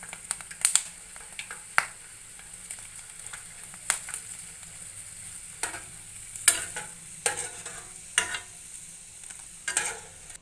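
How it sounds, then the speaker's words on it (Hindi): Thin potato slices for homemade salted chips fry in hot oil in a home kitchen, giving a steady close sizzle. Sharp clatters and scrapes as slices are stirred and added break through at intervals, with no talking. "अब हम इसको फ्राई करते हैं।"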